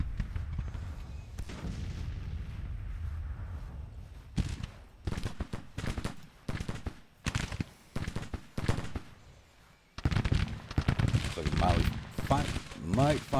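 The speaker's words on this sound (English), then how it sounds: "Battery's firing." An artillery battery fires in a Civil War strategy game: a long rumbling volley, then clusters of sharp, cracking shots separated by brief quiet gaps, building into dense repeated blasts near the end.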